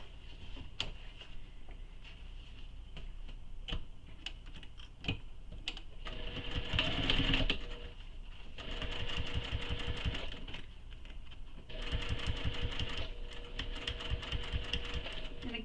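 A home sewing machine stitches a commuter tote bag, with short whirring runs broken by pauses for backstitching, preceded by a few soft clicks and taps, moderately close and without talk.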